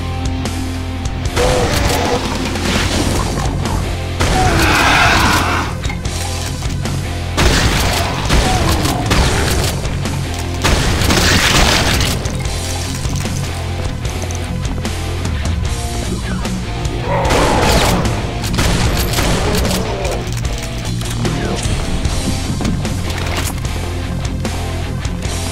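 Dense, loud gunfire and booming explosions from Doom 2 played with the Brutal Doom mod, repeated blasts and mechanical clatter layered over continuous game music and noise.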